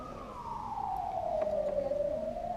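An ambulance siren wails nearby in a long, loud, steady tone that slowly falls in pitch, with faint road traffic underneath and no talking.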